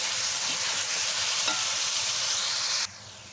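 Potatoes for aloo bhujia are stirred as they fry in a pan: a continuous close sizzle with faint scraping strokes, cutting off abruptly near the end.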